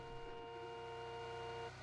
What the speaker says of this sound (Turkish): Tamam ben burada korna çalayım